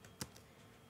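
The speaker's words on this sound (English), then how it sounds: "I'm going to type in" Typing on a computer keyboard, a short burst of a couple of faint, close key clicks in an otherwise quiet room.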